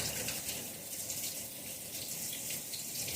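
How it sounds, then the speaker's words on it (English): Tap water streams steadily into a sink as biscuit dough is rinsed off fingers, a continuous close splashing rush with no talking. "Rinse that dough off my fingers real quick."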